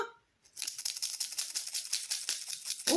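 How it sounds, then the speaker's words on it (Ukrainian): Dried peas rattle busily inside a jar, a rapid, uneven patter of hard little clicks that starts after a short pause and continues steadily. "Торохтить горошок."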